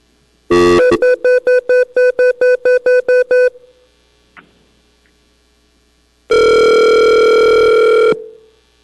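An outgoing telephone call at a Platting Board hearing: a quick burst of dialing tones, a run of ten short, evenly spaced beeps, a pause with a faint click, then one long, loud ringback tone.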